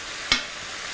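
A steady sizzling hiss of ground beef browning in a pan, with one brief scrape of stirring partway through.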